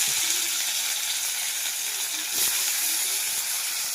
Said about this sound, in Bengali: এবার দিয়ে দিচ্ছি কেটে রাখা পেঁয়াজ আর দিয়ে দিচ্ছি কেটে রাখা টমেটো।